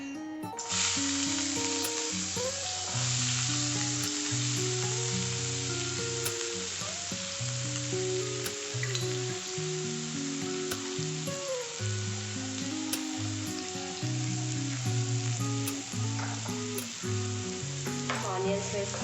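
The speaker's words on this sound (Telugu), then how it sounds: "ఆనియన్స్ వేసుకొని లైట్ బ్రౌన్ కలర్ వచ్చేంత వరకు ఫ్రై చేసుకోవాలి" Chopped onions fry in two tablespoons of hot oil in a pan for a capsicum and beans curry, giving a steady, continuous sizzle with occasional stirring under background music throughout.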